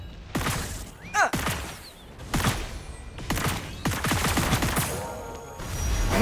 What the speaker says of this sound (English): You made me call an airstrike.